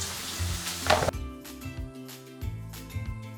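Onions hit a hot frying pan for a Tamil dried-fish curry, a burst of broadband sizzling for about a second that then gives way to music with only faint frying beneath.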